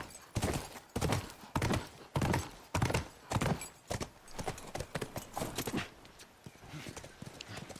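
Horse in The Last of Us video game, hooves clopping in loud, uneven bursts close by, then softening into lighter, quicker steps with a brief whinny amid the movement.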